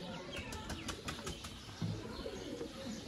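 Pigeons in a breeder's loft give quick flurries of wing flapping close by, with soft cooing and faint chirps in the background.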